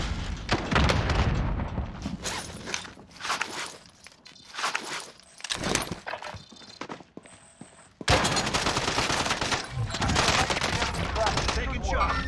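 Loud, rapid bursts of automatic gunfire and booms from Call of Duty: Warzone, with a grenade launcher class in play, stopping and starting in dense volleys amid footsteps and quieter gaps, with voices speaking over parts of it.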